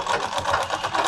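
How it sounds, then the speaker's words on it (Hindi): A sewing machine runs fast and steadily while double-stitching a medium-sized bag, giving a rapid, even mechanical whir close up with no talking. "इसे हम यहाँ से डबल सिलाई लगाएंगे।"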